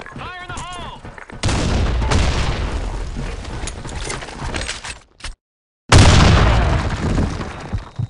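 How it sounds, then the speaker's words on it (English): A grenade goes off in the shooter game Blackshot, a loud booming blast followed by rattling gunfire, after a brief game voice line, then a short silent gap and another heavy burst. "Fire in the hole!"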